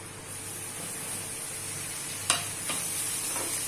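Chopped tomatoes, chili, coriander and cumin powder and garam masala stirred in a hot pan for bhindi do pyaza: a soft continuous sizzle with a few scraping strokes of a spoon, close and quiet.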